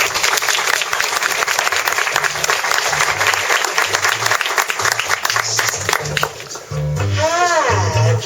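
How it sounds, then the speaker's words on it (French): An audience claps loudly and continuously for a nine-year-old comedian named Camille coming on stage at a comedy show, with music starting beneath and a voice breaking in near the end. "vous pouvez l'applaudir"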